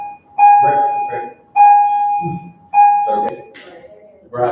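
Bells ring in repeated bursts, four sustained electronic bell tones starting and stopping in a regular pattern, loud and close, while a person keeps talking between and over them.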